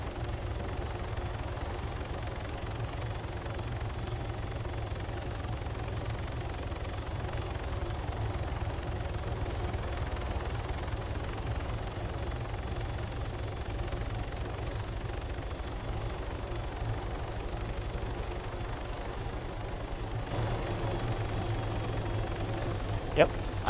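Steady helicopter rotor and engine drone in the Warlords Redux video game, a continuous low rumble holding at an even level throughout, with a brief click near the end.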